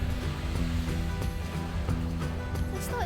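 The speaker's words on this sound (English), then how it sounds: "I could actually lie here for a wee nap and just listen to the waves." Sea waves washing onto a secluded white half-moon beach near a remote Scottish town, a soft continuous surf wash with gentle rolling swells, fairly faint and with no talking.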